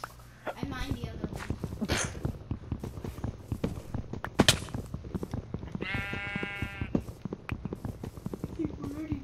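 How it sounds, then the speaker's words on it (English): Sheep bleat in Minecraft, a short harmonic bleat standing out midway amid busy game sounds, footsteps and clicks, with people talking throughout. "Alright, kill these sheep for..."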